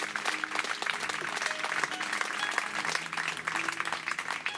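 An evangelistic service congregation in Macochín, Sonora, applauds vigorously, with sustained dense clapping mixed with light background music tones running throughout.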